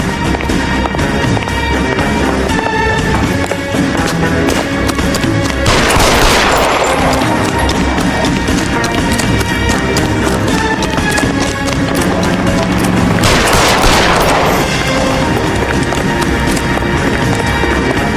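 Gunfire in the video game L.A. Noire, two loud surging bursts of rapid shots rising over a dense, steady bed of game action noise, with no talk in this stretch.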